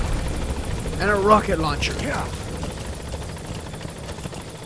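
A helicopter in Metal Gear Solid 5: The Phantom Pain keeps up a steady rotor drone, with someone talking over it.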